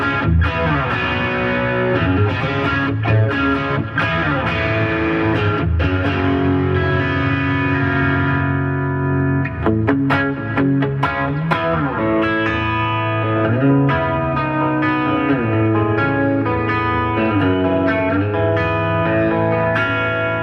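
Electric guitar played through a Bad Cat Hot Cat 50 tube amp with reverb and some gain, a continuous slightly driven riff with chords and single notes and a roomy reverb tail, loud and steady with no talking.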